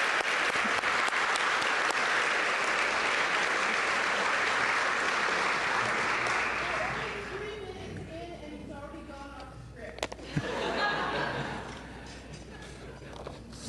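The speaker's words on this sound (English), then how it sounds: "can we give all these people a round of applause?" Audience applause at a foundation dinner, a dense wash of clapping that lasts about seven seconds and then fades, after which a speaker talks over a room murmur with a brief burst of renewed clapping.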